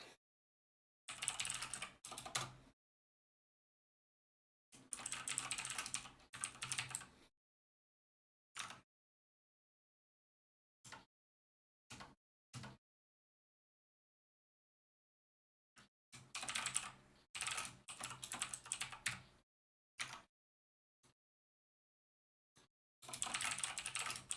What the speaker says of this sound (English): Why am I typing this out every single time, SMH?